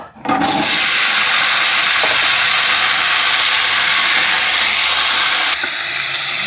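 A sudden loud sizzle bursts out as pumpkin hits hot oil, then holds as a steady, hissing crackle for several seconds before easing slightly.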